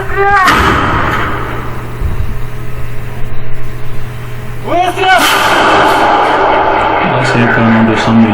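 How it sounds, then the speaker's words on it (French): A Russian 100 mm artillery cannon fires two loud booming blasts a few seconds apart, each rolling out into a long rumble over a steady engine drone, with a voice talking over it. "Là c'est un canon de 100 mm. C'est un canon de l'artillerie russe"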